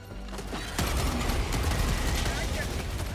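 Enemy mortar fire in Helldivers 2 starts with a sudden heavy blast and rolls into sustained rumbling impacts and crackling explosions, with people talking over the barrage.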